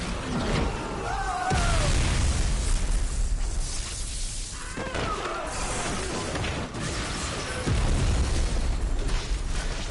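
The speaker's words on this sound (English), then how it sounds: "That's a lot of lightning." Lightning strikes crackle and boom in the Final Fantasy XVI game, a dense, loud, continuous barrage of crashes and bursts with rumbling low end and sweeping electrical whines throughout.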